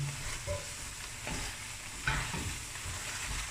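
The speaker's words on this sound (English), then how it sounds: "Now we're gonna stir." A spoon stirs oxtail curry with biryani masala in a pot, giving soft scraping strokes over a low simmering sizzle, fairly quiet with no talking.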